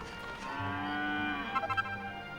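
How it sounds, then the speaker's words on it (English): A cow moos in Dragon Quest VIII, one long low bellow rising and falling in pitch over a steady game background, with a few brief chirpy sound effects near the end. "Oh, a cow."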